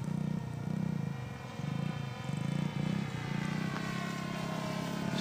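Motor of a homemade PVC model airplane in flight on its maiden flight, a buzzing, insect-like drone that rises and falls in short surges as the throttle changes, faint and distant.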